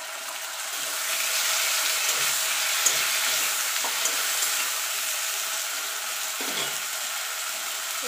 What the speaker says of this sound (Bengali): যে মশলাটা বেটে রেখেছিলাম সেটা দিয়ে